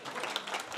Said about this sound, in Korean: 이 정도면 박수 놔야 되지 않습니까?